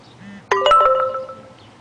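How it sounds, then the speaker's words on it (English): Phone text message notification tone on a Motorola Droid or Droid Incredible: a short, bright multi-note chime that rings out clearly over a quiet background and then decays. "Sorry, just a quick text message."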